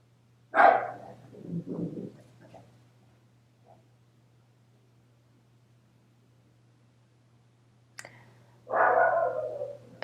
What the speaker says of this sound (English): Excuse the dog in the background cutting up.